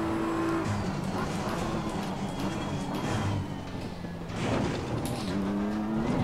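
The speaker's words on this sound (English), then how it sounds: "if you cut the kerb with the under tray, obviously the whole car jumped" A race car in Assetto Corsa Competizione rumbles over kerbs, with a steady engine drone and shifting tonal whine. A jolting thump comes around the middle, then the engine note climbs again.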